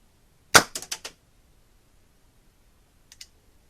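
A homemade combustion cannon built from a lighter fires an airsoft pellet with one sharp crack followed by a quick rattle of clicks, then two faint clicks a couple of seconds later in near silence.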